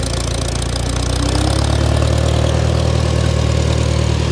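A 1954 IH McCormick Farmall Super C tractor engine runs at raised idle, a loud, close, steady low chugging drone with no talk over it.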